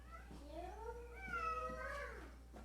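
A cat meows, wanting to come inside a church building during a Sunday service: one drawn-out, wavering meow, faint and somewhat distant over a steady low hum.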